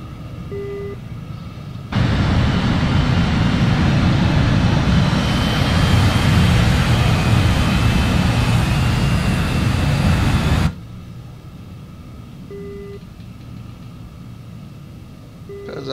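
A jet aircraft in the DCS flight simulator spools up and roars steadily for about nine seconds before cutting off, loud and close, with quieter ambient hum before and after.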